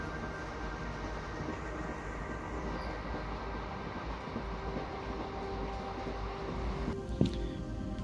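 Steady rumble of a passenger train travelling to Tamil Nadu, heard from inside the carriage as a continuous low roar with faint wheel clatter and a brief sharp knock near the end.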